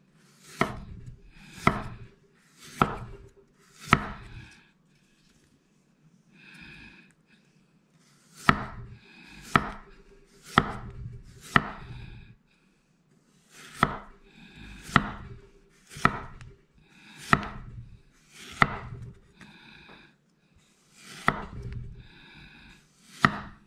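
A knife slices a vegetable into roundels on a cutting board in quick bursts of three or four sharp, evenly spaced chops, with short pauses between runs.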